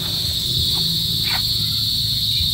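Insects chirp outside at night after rain in a steady, dense shrill chorus, continuous and close, with faint scattered calls drifting under it and no speech.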